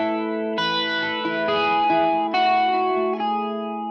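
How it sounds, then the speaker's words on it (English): Electric guitar played through a Boss CE-2W Waza Craft chorus pedal, giving a warm, shimmering 80s-style tone; several sustained chords ring out in turn, each new strum sharp at the start, close and fairly loud with no talking. "And this Boss chorus, the CE2W, the Waza Craft, it's one of my favorite chorus pedals"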